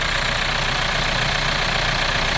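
The engine of a Hyundai Santa Fe DM with the hood open runs steadily, a loud, close, continuous mechanical drone with a rough, ticking texture and no pauses.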